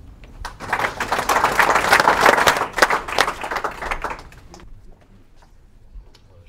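An audience at a cadets' end-of-training diploma ceremony breaks into applause: a dense, lively burst of many hands clapping for several seconds before thinning out and fading into quiet room tone.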